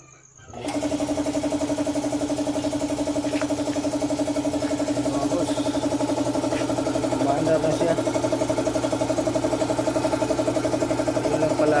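A homemade DIY air compressor starts up and runs steadily, a loud continuous mechanical hum with a rapid rhythmic chatter throughout, close by and alone.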